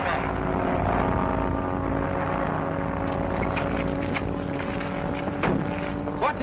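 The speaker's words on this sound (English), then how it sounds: "Barry Higgard is landing in the field." A propeller plane lands in a field, its engine a steady droning hum with tonal bands, heard loud and continuous amid wind noise as the aircraft comes down.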